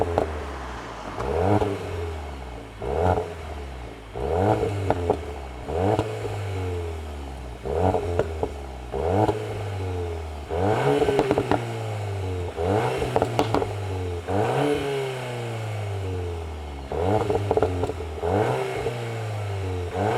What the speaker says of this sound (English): Let's actually listen to the exhaust.